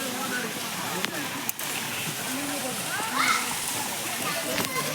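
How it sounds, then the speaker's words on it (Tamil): Water from a small waterfall splashes and rushes continuously, a close, steady wash of noise with a few sharper splashes, while people talk over it. "பாருங்க, நல்ல தண்ணி எப்படி போகுது, சூப்பராக இருக்கும், செம்மையாக விழுகுது"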